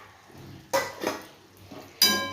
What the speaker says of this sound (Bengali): এই দিয়ে নেড়ে চেড়ে একটু ভালো করে মাখো মাখো করে নেব